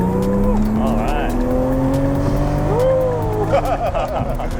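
A Toyota Supra in sport mode accelerates hard, its engine note rising through gears with tire noise, heard from inside the car while people exclaim over it.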